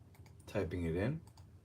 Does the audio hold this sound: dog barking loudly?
no